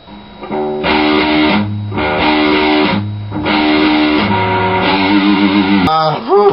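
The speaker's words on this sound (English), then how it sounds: "I'm talking about breakdowns that sound like this." Heavy, distorted electric guitar chugging in a slow, pounding breakdown with low palm-muted riffs and pauses, loud and continuous, ending with a brief pitch-bending squeal.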